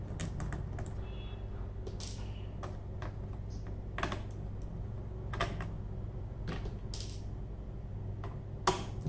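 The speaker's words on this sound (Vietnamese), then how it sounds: "Tiếp theo mình tháo mấy con ốc ở bắn ra bàn phím này." Small screws are removed from around the keyboard of a Dell Latitude 6420 laptop, with close, irregular clicking and tapping of the screwdriver and plastic casing at a quiet level, no voices.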